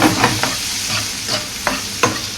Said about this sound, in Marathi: तर कांदा आपण पूर्णपणे शिजून घेऊया